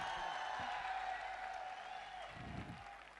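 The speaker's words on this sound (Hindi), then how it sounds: "योगेशी के लिए जोरदार तालियां हो जाए।" Audience applause at a Safe Shop motivational event in honour of Yogesh Yadav, a steady broadband wash of many hands clapping that runs the whole time at moderate level, with a brief low voice or thump near the end.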